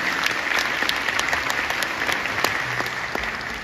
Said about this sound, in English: let's clap for them